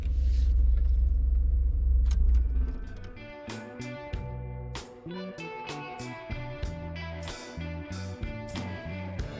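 An automatic car wash runs over a car during a road trip, its loud low rumble of water and machinery giving way to a busy stretch of irregular thumps, sprays and clatters heard from inside the vehicle.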